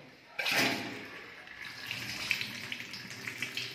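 Tap water runs steadily in an apartment kitchen in Alexandria, a strong continuous rushing gush that starts abruptly and stays close and fairly loud.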